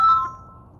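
A phone gives a single bright ringtone chime for an incoming call, loud and close, fading quickly into quiet room tone.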